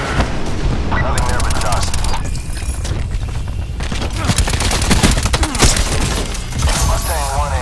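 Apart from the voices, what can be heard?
machine gun fire from aircraft strafing run, Call of Duty Black Ops 4 video game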